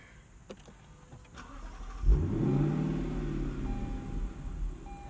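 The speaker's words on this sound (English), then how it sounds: "let's start this V8 up" A 2021 Lexus LC 500 convertible's V8 cranks and fires at about two seconds into a loud, deep rev that settles into a rumbling, burbling idle, close by, with no talk.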